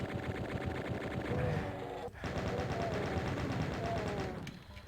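A chaingunner enemy firing in the video game Doom, a rapid continuous burst of repeated gunshots with game ambience, briefly interrupted by a sharp crack before the fire resumes.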